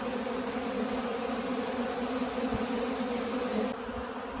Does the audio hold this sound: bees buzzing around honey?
yes